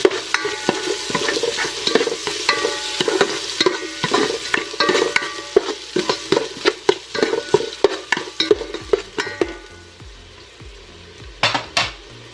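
Onion and garlic sautéing in a pan for chicken macaroni soup, a sizzle under repeated close scraping and clacking stir strokes in an uneven rhythm, with no talk.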